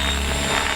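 An RC helicopter flying 3D rolling circles gives a steady, loud, high rotor and motor whine, close and continuous, with no talk.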